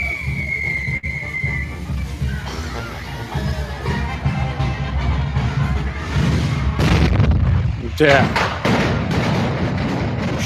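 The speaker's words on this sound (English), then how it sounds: "There was a stash of fireworks in there." A stash of fireworks goes off in a series of booms, thuds and crackling pops that grow denser and louder toward the end, with people talking over the blasts.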